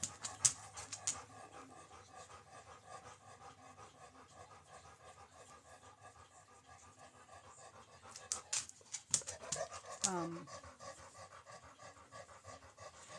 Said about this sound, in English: I'm not real sure what my dog wants